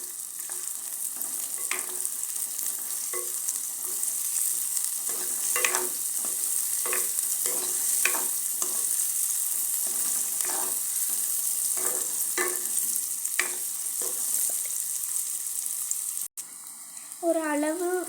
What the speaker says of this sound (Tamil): ஒரு அளவு வதங்கினா போதும் இந்த மாதிரிங்க.